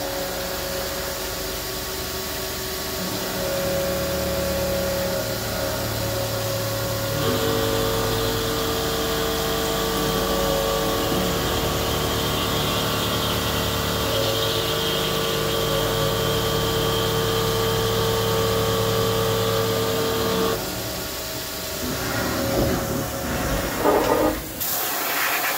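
A CNC lathe runs a program cutting a metric M22x1.5 thread with a threading tool, giving a steady machine hum with sustained tonal whine and faint mechanical clatter, fairly loud and continuous with no talking.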